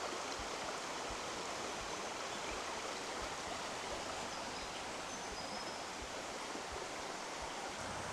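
Browns Falls on the Granite Belt pours in a steady, even rush of falling water, heard at a moderate distance with no pauses and no voices.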